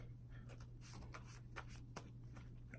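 Quiet, rapid riffling and flicking of Yu-Gi-Oh cards being shuffled in short bursts, close and soft, over a faint steady background hum.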